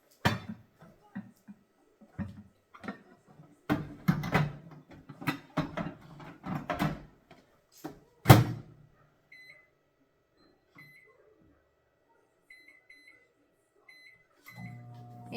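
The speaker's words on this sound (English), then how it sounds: "So I will put this into the microwave oven." Clattering and knocking while pumpkin goes into a microwave oven, then a few short keypad beeps before the oven starts its steady low hum near the end.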